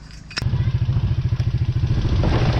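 A race vehicle's engine runs loud and close after a sharp click, its steady pulsing chug holding as the primary clutch engages.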